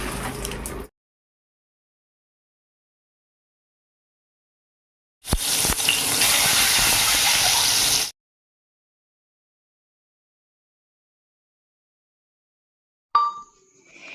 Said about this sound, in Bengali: গাছগুলোকে বেশ ভালো করে ওপর থেকে পাতাগুলোকে ধুয়ে দিলাম